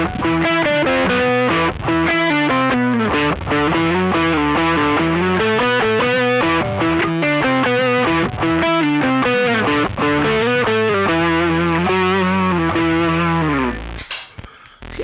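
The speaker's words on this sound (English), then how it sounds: "if I put on the distortion, for example, I get distortion and synth." Electric guitar run through a Boss ES-8 switcher pedalboard with distortion and a synth effect combined, playing a loud, continuous sustained line of buzzing, harmonically rich notes that cuts off near the end with a brief clatter.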